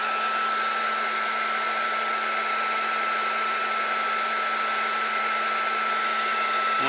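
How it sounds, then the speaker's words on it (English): Heat gun blowing hot air onto plastic parts of a 1/16 scale Takom M4A3E8 Sherman tank kit, a loud, steady, close roar that holds unchanged throughout. "hello heat gun"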